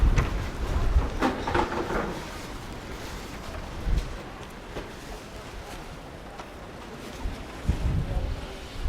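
Strong gusty wind buffets the microphone while walking along a seafront promenade in Palmanova, Mallorca, with rumbling surges rising and falling throughout.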